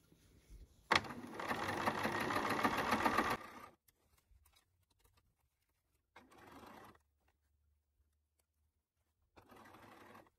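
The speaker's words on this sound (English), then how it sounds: "I am sewing the J stitch, so the front and the facing together to form a J." Sewing machine stitching a J-shaped seam joining the front and facing of a pair of pants, a loud close burst of about three seconds followed by two shorter, fainter runs with quiet pauses between.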